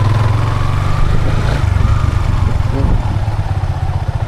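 A motorcycle engine fitted with its stock exhaust runs steadily up close, a low throbbing idle with a loud, continuous rumble and slight clatter throughout.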